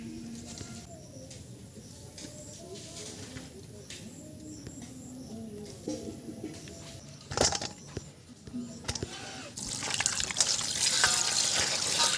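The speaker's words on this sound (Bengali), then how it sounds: "মাছগুলো ভালো করে ধুয়ে নেব জল পুরো লাল হয়ে গেছে একদম" Water splashes and sloshes as several freshly caught native magur catfish are rinsed by hand in a bowl. The washing runs steadily up close and grows louder toward the end, with a few sharper splashes in between.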